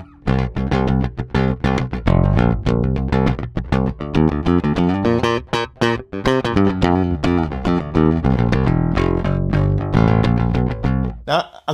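Electric guitar played with an Acoustik Attak blade pick, loud and close, ringing out a fast run of picked notes and chords with heavy sustain before cutting off abruptly at the end.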